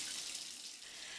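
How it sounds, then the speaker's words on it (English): A running shower captured on a phone: a steady, even hiss of spraying water with no breaks, filling the whole moment with no voices. "You recorded your shower."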